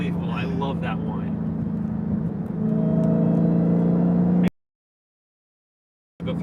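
A Dodge Challenger SRT Demon engine whine hums loudly, rising slightly in pitch, then cuts abruptly to silence before briefly returning at the end.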